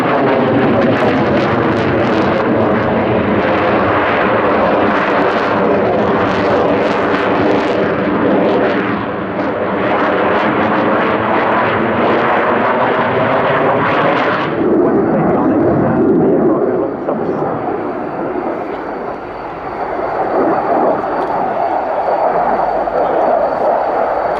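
Polish Air Force MiG-29 Fulcrum jet at an airshow, a loud roaring pass that holds strong then cuts to a lower, thinner rumble as it recedes.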